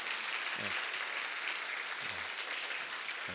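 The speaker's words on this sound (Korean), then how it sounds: "박수로 환영하겠습니다" Church congregation applauding to welcome a visiting Israel missionary during a Sunday service; dense, steady clapping from a crowd, fairly faint and continuous throughout.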